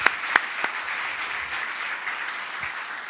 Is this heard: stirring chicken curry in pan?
no